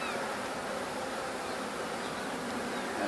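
Honeybees buzzing steadily around an open hive in spring, a dense, continuous hum of many bees close by that never lets up, heard alone with no talk.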